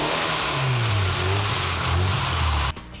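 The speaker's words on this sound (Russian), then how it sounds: "Вслед за Нерюнгри на этой неделе гонки на льду устроили в Ленске" Cars racing on ice at an ice race in Lensk, engines revving and pitching up and down as they pass, loud and continuous before cutting off abruptly near the end.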